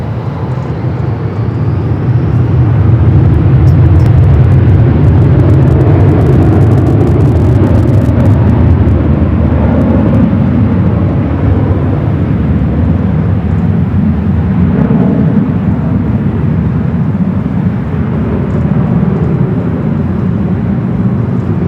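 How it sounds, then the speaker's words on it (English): A Boeing 777-300ER jet takes off at LAX, a loud, sustained roar of engines that builds and then holds, broad and rumbling, and stays close and powerful for the full stretch with no talking over it. "the 777 at 300ER heading up here for north side at takeoff"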